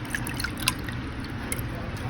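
Melted snow water drips during a 2021 Texas snowstorm, with a few faint, scattered drips over a constant steady background hiss.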